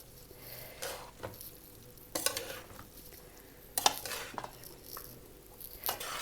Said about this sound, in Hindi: ताकि सारे इंग्रेडिएंट जो है वो अच्छे तरीके से इसमें मिक्स हो जाएं।